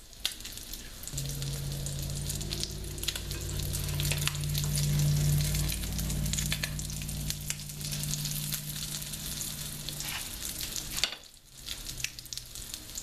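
A crab cake frying in a pan, with a steady crackling sizzle that runs throughout, a low hum underneath, and a brief dip in the noise near the end.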